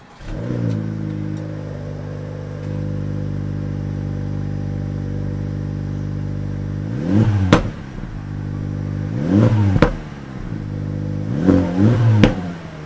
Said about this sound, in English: We got the sounds, the pops, the crackles, and this just is so, man, let me just let you hear it.